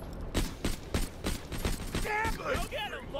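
Assault rifle and pistol fire in the shooter game Borderlands: The Pre-Sequel: a run of evenly spaced loud gunshots, about eight in three seconds, ending in warbling energy-weapon and effect sounds near the close.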